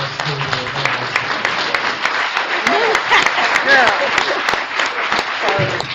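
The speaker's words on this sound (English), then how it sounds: "can we get a round of applause for our school board?" A school board receives a round of applause from the audience at a candidate forum in Gahanna, Ohio: steady, dense clapping that holds throughout, with a few voices mixed into the crowd.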